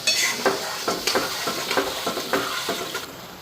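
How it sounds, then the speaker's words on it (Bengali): Flour lightly frying and being stirred in a pan with mustard-poppy paste, soft sizzling under repeated scraping and clinking of a utensil against the pan in an uneven rhythm. "তো এখন হালকা ফ্রাই করে নিই ময়দা"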